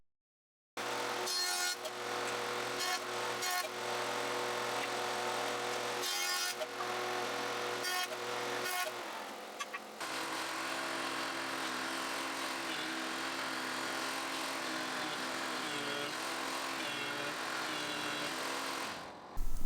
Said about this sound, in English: it is time to joint and run the boards through the thickness planer.